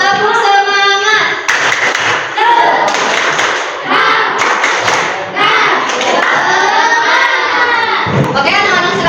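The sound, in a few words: children doing a rhythmic spirit clap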